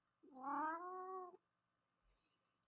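A house cat gives one drawn-out meow of about a second, close and clear, followed by quiet with a few faint small noises.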